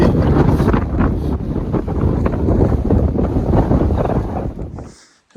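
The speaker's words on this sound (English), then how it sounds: "So windy." Strong wind buffets the microphone on an exposed Appalachian Trail mountain section near the Baldpates, a loud continuous roaring gust that suddenly cuts out just before the end.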